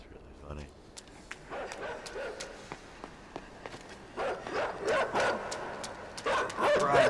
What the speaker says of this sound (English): that dog is tearing my ass up